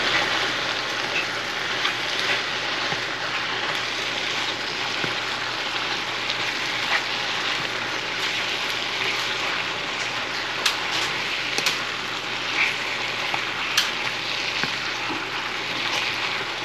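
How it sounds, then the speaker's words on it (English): Sautéed onions and oyster mushrooms fry in a cast iron pan, giving off a steady, dense sizzle with faint crackles and pops throughout, close and even in level, with no talking. "I'm gonna mix it in with the mushroom and start getting those fried up"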